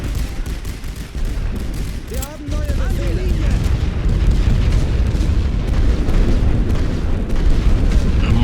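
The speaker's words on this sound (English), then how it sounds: "They are actually lobbing mini grenades at it now." Grenade blasts and other battle noise from the First World War strategy game The Great War: Western Front, with muffled booms and crackling gunfire rolling continuously at a steady, loud level with no quiet gaps.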